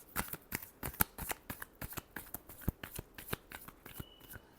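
Tarot cards being shuffled in quick, crisp riffles and slaps, close and fairly quiet, with an irregular rhythm of sharp card snaps.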